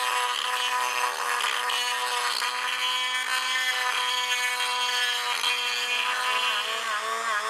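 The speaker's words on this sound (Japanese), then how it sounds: "凹凸が激しいので、目の細かいビットで修正します。" A rotary tool fitted with a fine bit grinds and smooths the rough surface of a Honda CD50 motorcycle cylinder head during port work, a loud, steady high whine running continuously without pause.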